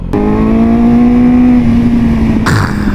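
A Yamaha R6 sport motorcycle exhaust revs loud and near, holding a high steady engine drone and rising slightly, then a sharp burst as the pitch drops, all continuous without voices.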